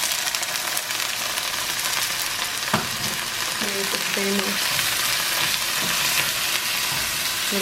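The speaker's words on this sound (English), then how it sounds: "I'm going to add my corn first" Corn kernels sizzle steadily in a hot pan, with a few scrapes and stirring clinks while it fries and warms up, the sound continuous and close.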